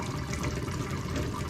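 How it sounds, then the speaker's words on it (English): Hot tap water hits a smoking-hot cast iron skillet, a loud, continuous rushing hiss and sizzle over the whole short moment, with no talk. "It's time to hit it with a little bit of water and finish the cleanup."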